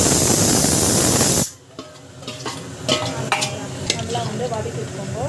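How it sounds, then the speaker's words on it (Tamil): Masala sautéed and stirred in a pan for a mutton gravy, opening with a loud hiss that drops away into softer sizzling broken by scraping stir strokes and clinks of a spoon against metal. "நல்லா வந்து வதக்கி விட்டுக்கோங்க."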